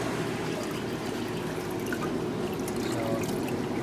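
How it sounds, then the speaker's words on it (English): An RV water pump pushing water and antifreeze through the lines produces a steady watery rush and trickle, with a low churning hum underneath and no talk. "I'm trying to see the pump churning a little bit because it's running this way, so it's pumping water up and in."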